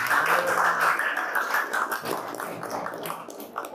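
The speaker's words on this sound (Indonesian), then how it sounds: "ayo mana aplausnya? Tepuk tangannya mana?" Students in a classroom clap for a classmate who came forward; scattered, uneven clapping mixed with voices that thins out over a few seconds.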